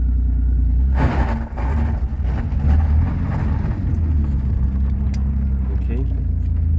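Street car with MaxxECU traction control active, accelerating with a continuous low engine rumble and road roar that holds steady throughout, close and loud.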